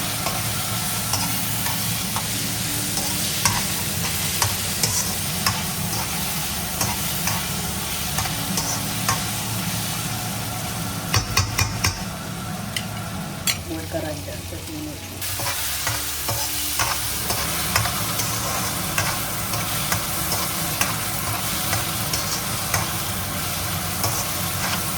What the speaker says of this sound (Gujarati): કાજુ ઉમેરી દઈશું. ફરી એકવાર હલાવી દઈશું.